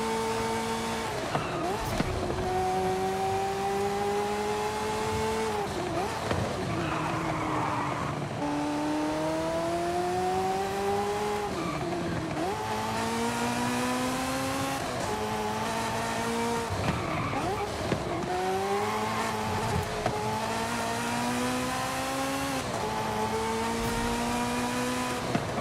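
A tuned race car in Forza Horizon 5 revs hard through repeated gear shifts, engine pitch climbing and dropping in long sweeps, with tire squeal and skidding from drifting throughout, loud and close.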